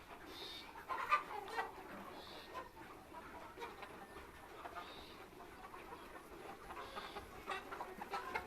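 Sonali super hybrid chickens on a poultry farm, soft murmuring clucks and occasional higher calls from a flock, faint and continuous throughout.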